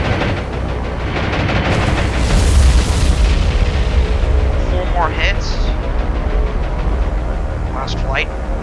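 Torpedo hits explode against Japanese ships in the naval video game War on the Sea, heard as a sustained, loud, rumbling boom with heavy low-end noise, joined by faint higher whistling game effects.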